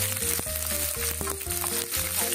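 Onions frying in a pan for a chicken and vegetable tinola, a close, steady sizzle and crackle with faint stirring, no voices present.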